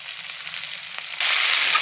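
Whole small onions sauté in oil with a soft steady sizzle that suddenly swells louder and brighter partway through, close and without talk.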